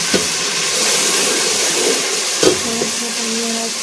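Chillies sizzle in a hot pan while namkeen rice is being cooked, giving a steady, bright frying hiss close up with a few small pops and crackles.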